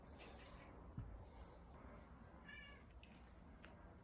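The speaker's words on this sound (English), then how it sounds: "If you can hear my cat crying, I apologize." A cat meows faintly a couple of times in the distance beneath steady room noise.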